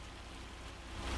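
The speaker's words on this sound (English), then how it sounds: "We literally finished the field and it started raining." Rain in the video game Farming Simulator 25 falls as a steady, dense hiss for about a second, quiet and even, swelling slightly at the end without any speech.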